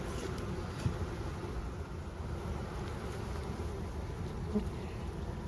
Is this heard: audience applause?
no